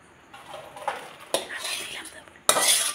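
Cooked chow mein in a pot being lifted off a kitchen stove, with a few sharp metallic clanks and scrapes of cookware, loudest near the end, over soft background noise and a faint voice.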